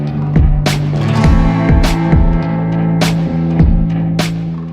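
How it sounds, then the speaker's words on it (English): A Dyson 181 heavy-duty compound feed lock-stitch sewing machine runs with a steady low hum, broken by four sharp, evenly spaced mechanical clacks about once a second. "Dyson 181 heavy-duty compound feed lock-stitch sewing machine."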